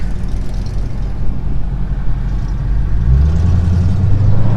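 A Dodge Hellcat V8 with a supercharger and a JLT cold air intake at wide open throttle gives a loud, steady deep engine roar, and a rising whine comes in toward the end, heard alone from close by.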